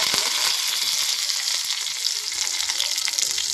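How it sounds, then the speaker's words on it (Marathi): Garlic and curry leaves sizzle loudly in hot oil in a pan as a simple dal tempering is started, a steady, close frying hiss throughout. "तेल गरम झालेलं आहे. लसूण टाकले."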